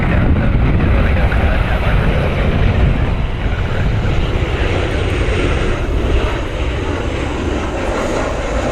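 A Southwest Airlines jet landing at Cleveland Hopkins airport roars loudly and continuously with broad engine rumble and rushing noise, sustained throughout without talk.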